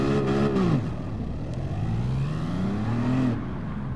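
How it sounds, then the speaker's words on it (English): A car launching from a standstill in second gear, engine note climbing and dipping under load as it pulls away, loud and continuous throughout with no voices. "So if I was to launch it on first second gear only"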